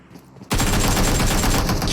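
Sustained burst of AK rifle fire in PUBG Mobile that erupts abruptly after a quiet moment and keeps hammering loud and dense to the end, with no talk over it.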